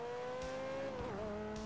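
A Carbonizzare sports car engine in a video game, a brief smooth engine note holding steady then dipping and recovering in pitch, fairly faint.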